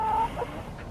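A hen gives a short, contented melodic singing vocalization, a rising tone followed by softer clucks, close by.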